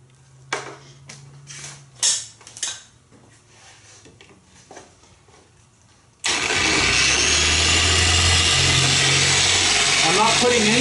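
Car paint polishing machine switched on at low speed 1 with a lamb's wool pad, starting abruptly after quiet handling and clicks, then a loud steady whirring hum that runs continuously.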